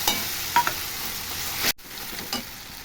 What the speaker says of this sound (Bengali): একটা বড় পেঁয়াজ আর টমেটো বেটে রেখেছিলাম, এটা দিয়ে দেবো তেলে।